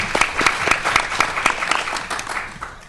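An audience at a Seattle film summit panel breaks into applause, a dense burst of many hands clapping that is loud at first and gradually thins and fades over a few seconds.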